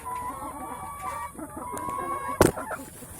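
Chickens cluck and call in a small, simple backyard coop, with steady overlapping clucks close by and a sharp loud squawk near the end, and no talking.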